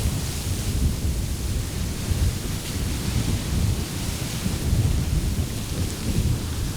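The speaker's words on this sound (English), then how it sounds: "you really start to get a sense of the thing building up, ready to erupt" A volcanic eruption sound effect from a professional effects library: a dense, continuous deep rumble with broad hissing noise, steady and loud throughout, no voices.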